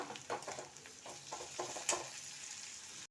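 Onions with ginger garlic paste stirred in a frying pan, a soft sizzle broken by repeated scraping strokes of a spoon, close and fairly quiet throughout.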